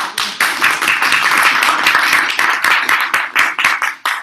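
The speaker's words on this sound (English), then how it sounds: "give a big round of applause to our panelists" Audience applause for the panelists at a discussion event on Muslim issues, loud close clapping from a modest group with distinct individual claps, swelling briefly and then thinning out into scattered claps near the end.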